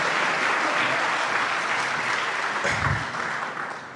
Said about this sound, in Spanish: Que quieren un aplauso, no sé qué es lo que quieren, pero apláudanlo para que se sientan felices